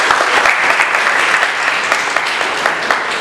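A crowd applauding loudly at a school quiz event in Karachi, dense continuous clapping that holds steady throughout.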